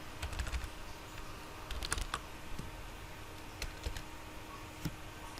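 Computer keyboard keys clacking as a Linux terminal update command is typed, an irregular run of sharp, close taps with short pauses, alone against a faint background hiss.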